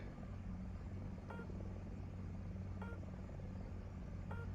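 A helicopter in a combat video game gives a steady, close rumbling rotor drone with a few faint clicks over the top, and no talking.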